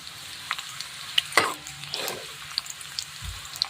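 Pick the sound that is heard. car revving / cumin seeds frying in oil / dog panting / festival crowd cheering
cumin seeds frying in oil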